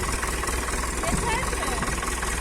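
A tractor engine runs at a steady idle-like chug during a first driving attempt on muddy ground, close and continuous with a knocking rhythm.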